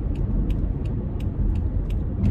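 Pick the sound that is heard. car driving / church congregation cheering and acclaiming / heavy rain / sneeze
car driving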